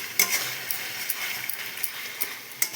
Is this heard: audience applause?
no